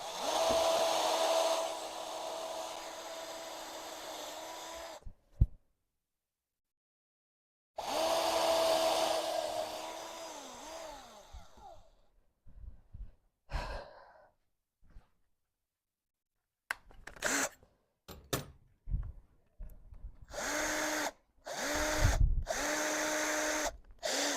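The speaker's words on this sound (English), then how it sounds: "it still needs to be countersunk properly." A power drill countersinking screws into wood for a backyard build, with two long whirring runs up close, then scattered short bursts and clicks, and a final stretch of repeated quick drill pulses.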